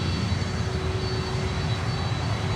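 A Lockheed L100 cargo aircraft at Miami International Airport gives a loud, steady engine roar with a constant hum, close and unbroken, with no voices.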